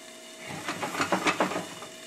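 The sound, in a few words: broccoli steaming and frying in a covered pan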